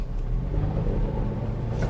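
An automatic Toyota Kijang Innova accelerating on a test drive, its engine a steady, loud low rumble heard from inside the cabin with no pause or letup.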